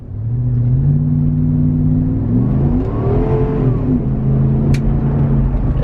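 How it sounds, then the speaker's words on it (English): A V8 car fitted with a new Flowmaster cat-back exhaust revs up and settles, a deep close rumble rising in pitch mid-way then dropping back to a steady burbling idle. "we finally sound like a V8 in here"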